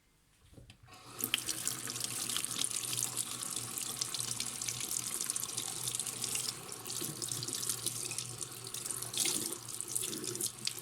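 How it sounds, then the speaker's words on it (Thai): Wild mushrooms are rinsed under a running tap. After a brief quiet start, the water gushes in a steady, close splashing rush that lasts to the end, with no voices. "เดี๋ยวเราจะล้างให้สะอาด"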